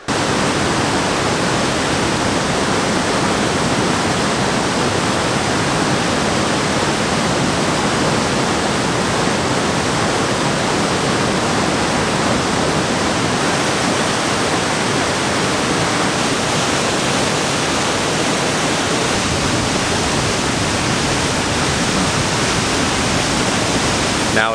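Loud, continuous roaring of a large waterfall, a constant wall of rushing water with no pauses or voices.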